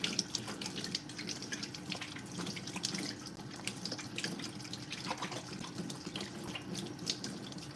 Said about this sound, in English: Let me clean my hand just a little bit to get the flour off me for now.